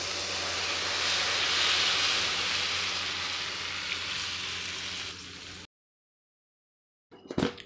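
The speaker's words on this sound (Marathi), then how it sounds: "आता आपण हे मटकीचं उकळलेलं पाणी होतं ते आपण त्यात टाकणार आहोत." Boiled moth bean water is poured into hot oil-coated misal masala, giving a loud broad hissing sizzle that slowly fades before cutting to silence and a brief clatter at the end.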